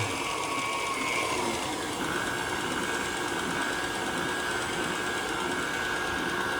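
An electric mixer whirs steadily through lime cake batter made from a boxed mix, a close, continuous motor drone with a slight pitch shift partway and no talking.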